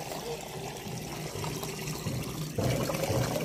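Water poured over a small Gopal idol during a household bathing ritual, a steady splashing trickle that swells louder near the end, with a voice faintly underneath.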